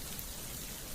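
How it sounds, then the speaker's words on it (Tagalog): Heavy rain beats down on a mountainside hut, a dense steady wash of drops and hiss that fills the whole second at an even level, with no one speaking. "Naabutan lang kami ng malakas na ulan dito."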